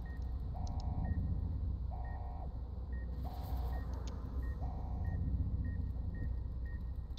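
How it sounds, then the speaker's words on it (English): A repeating electronic alarm in the game Fallout New Vegas, steady regular beeps at an even rhythm over a low rumbling background, fairly quiet and with no talking. "Stop beeping."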